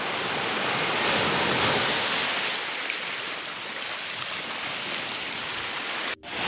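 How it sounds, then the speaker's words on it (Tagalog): Sea waves wash onto a beach at Talikod on Samal island, a steady close hiss of surf with no distinct breaks, ending in a sudden cut. "ito yung dagat dito sa Isla Custafba."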